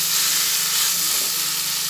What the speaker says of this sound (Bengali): এরপরে এইভাবে একসঙ্গে কুমড়োর বুকো আর উচ্ছেটা ভাজা হতে হতে কুমড়োর বুকোটা একদম উচ্ছেটার মধ্যে মিশিয়ে দিলাম।